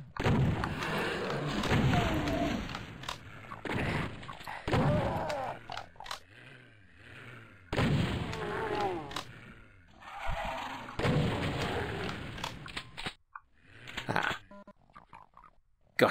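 Gunfire in the retro shooter Doom II on Nintendo Switch: heavy, punchy shots and thuds repeating in bursts, with someone talking between and over the blasts.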